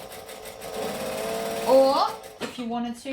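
A sewing machine stitches close to a seam center with a continuous whirring run while a person talks over it, and the machine slows near the end.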